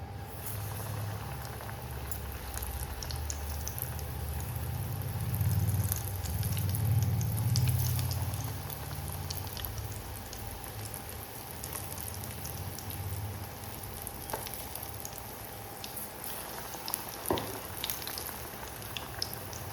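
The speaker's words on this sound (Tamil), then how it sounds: "வாழைக்காவை இப்படி டிப் பண்ணிவிட்டு எண்ணெயில் போட்டு பொரிச்சு எடுக்கலாம்" Battered raw banana slices deep-frying in hot oil, a steady soft bubbling crackle that swells briefly near the middle, then settles into a continuous low fizz with occasional pops.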